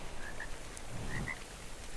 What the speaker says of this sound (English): Beelzebufo, whatever they're called. It's a damn frog.